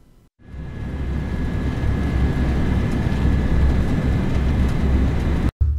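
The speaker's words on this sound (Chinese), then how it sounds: "这是驾驶室火车高速行驶。" Inside a train driver's cab at high speed, a loud, steady roar and rumble swells in after a brief quiet start and holds constant, with a faint whine over it and a brief dropout just before the end.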